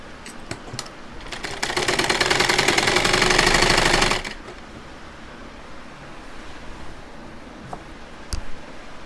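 A sewing machine stitches a side pocket onto palazzo pants, running in one fast, loud burst of rapid needle clatter for a couple of seconds, then stopping, followed by quiet handling noises and a sharp click.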